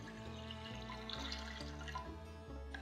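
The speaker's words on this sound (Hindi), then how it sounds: "तो लौकी को पकाने के लिए हम पैन में डालते हैं 1 लीटर पानी" About a liter of water is poured into a cooking pan for bottle gourd in a home kitchen, a steady splashing wash running throughout beneath background music.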